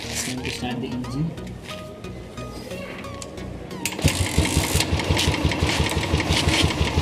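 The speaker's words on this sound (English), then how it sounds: "Let's start the engine and see the difference." A Royal Enfield Classic motorcycle after an engine oil change, kick-started at home and settling into a loud, close, thumping single-cylinder idle with a steady rapid beat, following a stretch of quieter background noise.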